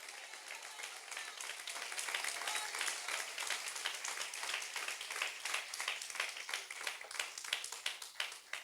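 A church congregation applauds at a sermon, a dense, steady wash of many hands clapping that builds slightly and carries on throughout, with no voices.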